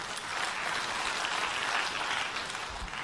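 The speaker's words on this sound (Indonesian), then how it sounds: "Tepuk tangan untuk Tuhan kita" A church congregation breaks into steady, dense applause honoring God, sustained broadband clapping at even loudness for the whole stretch, no voices on top.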